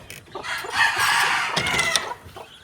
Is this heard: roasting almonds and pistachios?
no